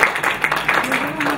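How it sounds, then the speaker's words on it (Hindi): Audience clapping at a literature festival session, a brief run of close, irregular claps with a voice talking over it. "बहुत अच्छी तालियां।"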